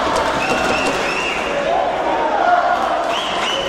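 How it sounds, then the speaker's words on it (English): A wrestling crowd at a Reality Of Wrestling women's match keeps up a steady roar of cheering, with an announcer talking over it. "And this crowd is so excited for Hyan."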